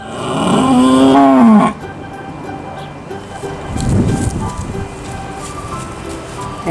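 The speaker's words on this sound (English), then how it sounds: "Oh, what are you mooing about?" A cow on a farm lets out a long, loud, rising-and-falling moo close by, then a quieter, lower moo follows after a pause over soft outdoor background noise.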